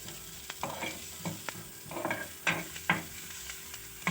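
Finely chopped garlic sautés in a pan with a soft, even sizzle under repeated spoon scrapes and taps against the pan, heard close and fairly quiet.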